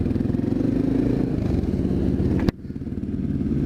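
Honda XR650L dirt bike riding alongside Yamaha street bikes, a close, steady, throbbing single-cylinder engine rumble with a sharp clack partway through, then the engine note continues slightly quieter.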